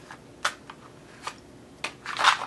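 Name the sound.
shuffling tarot cards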